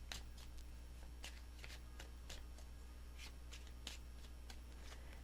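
Tarot cards riffle and slap repeatedly in quick, uneven bursts, close up and fairly quiet, over a low steady hum.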